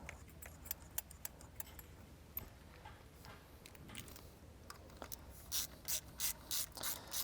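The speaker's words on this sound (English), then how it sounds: "So now that the breather hose is installed, you do the T30 that holds it in place." A ratchet clicks in short, quiet bursts as it tightens the T30 screw holding the plastic turbo breather hose on a 2009–2017 Audi MLB model, with faster clicking toward the end.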